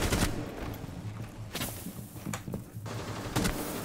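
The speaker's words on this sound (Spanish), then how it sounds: "Mira cómo disparan a través de la pared" Gunfire punching through a wall in Rainbow Six Siege, several loud close bursts of rapid shots separated by brief pauses.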